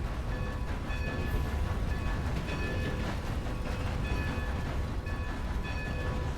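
A train rumbles past on the tracks with a steady, loud, broad roar throughout and faint tonal whines above it, heard close by with no talking.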